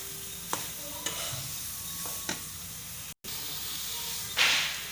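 Thick puran, the sweet filling for pooran poli, being stirred in a pan, with soft scraping strokes at a steady rhythm over a faint sizzle and a brief hiss near the end, close by and quiet.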